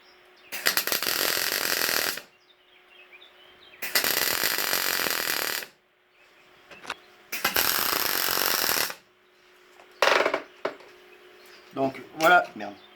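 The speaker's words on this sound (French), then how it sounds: "Voilà la soudure point par point." MIG spot welding on a steel piece for a 90-degree joint: four loud bursts of crackling arc, each about one to two seconds long, separated by short pauses, followed by a few brief sputters at the end.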